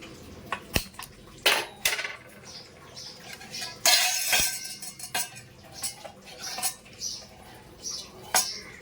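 A metal bowl set down on a kitchen stove ahead of tempering, giving sharp clinks and clanks of metal against metal at irregular intervals, close and fairly loud with quieter rustling between.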